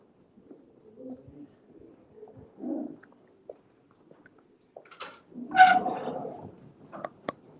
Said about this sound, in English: So I will show you a few pigeons related to the auction first.